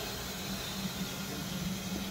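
Fire suppression agent sprays from a burst heat-sensitive tube inside a closed panel, a steady broadband hiss under a low hum, continuous and fairly loud.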